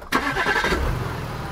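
A car engine cranks and catches right at the start, then settles into a steady low idle, heard up close inside a quiet car with no talking.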